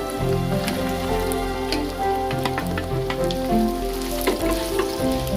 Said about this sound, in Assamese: আমি ইয়াত এতিয়া এই কাটি থোৱা বেঙেনাখিনি ইয়াতে দি দিম।